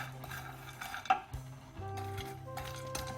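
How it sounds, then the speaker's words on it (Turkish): Walnuts are dry-roasted without oil in a pan and stirred, giving soft scraping and scattered clinks of a spoon against the pan, with a louder knock near the middle, steady and close, without talk. "Cevizlerimiz kahveleşinceye kadar şöyle güzelce kavuralım"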